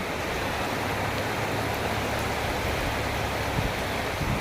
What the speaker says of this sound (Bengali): বলতে বলতে ঝমঝমিয়ে বৃষ্টি চলে এলো